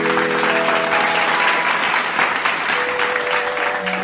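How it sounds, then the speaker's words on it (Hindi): Loud, dense audience clapping welcoming a singer on stage at a devotional music program, sustained throughout with a faint musical tone underneath. "जोरदार करताली सहित स्वागत करिया"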